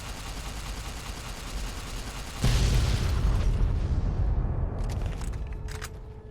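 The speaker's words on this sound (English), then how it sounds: "Stuff's still exploding." Explosions in Fallout: New Vegas, a steady rumble that breaks into one loud, deep blast. The blast rolls on and slowly fades, with light crackling debris toward the end.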